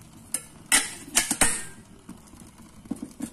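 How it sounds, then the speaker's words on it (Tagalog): A metal kettle half filled with water is set onto a homemade denatured-alcohol can stove burner, giving several sharp clanks and rattles close by, with quieter taps trailing after. "Lagyan ko lang yung takuri na kalahati guys."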